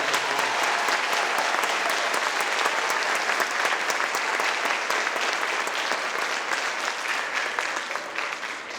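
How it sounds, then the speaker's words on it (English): Sustained audience applause at an arts festival performance, dense and steady clapping filling the hall for nearly nine seconds before tapering slightly at the end. "So we give all of them a huge round of applause."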